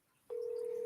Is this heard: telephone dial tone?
yes